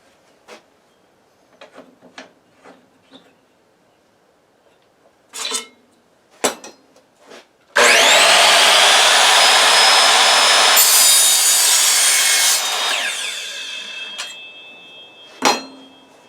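Handsaw cutting wood for mining rig frames in an off-grid workshop: scattered knocks and taps, then one long loud continuous rasping stroke that fades, with a final sharp knock.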